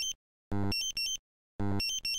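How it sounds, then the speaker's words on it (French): A Dräger X-am 5000/5600 gas detector sounds its loud electronic main A2 danger alarm in repeated double beeps, two shrill tones in quick succession, then a pause before the pair repeats. "L'alarme principale A2 signale un danger de mort. Elle émet un signal sonore double."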